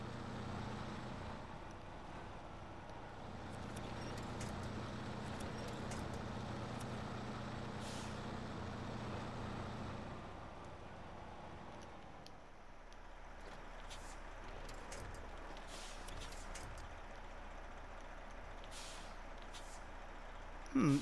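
Truck engine in Snowrunner struggling over rough ground, a low droning rumble that drops in intensity partway through, with faint clanks and hissing bursts above it and no speech.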